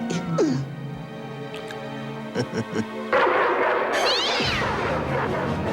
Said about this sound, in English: Kitty, kitty. Here, kitty, kitty, kitty. Dinner time.